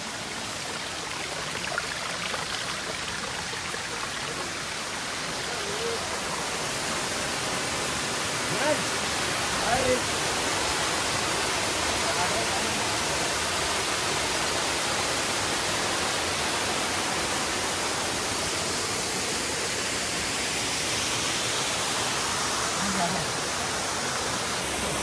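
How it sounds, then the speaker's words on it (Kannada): Abbi Falls at Magajahalli roars as a dense, continuous wall of falling water, loud and unchanging from start to finish, with no break in the rush. "ಎಲ್ಲಕ್ಕಿಂತ ದೊಡ್ಡ ಫಾಲ್ಸ್ ಇಲ್ಲಿದೆ"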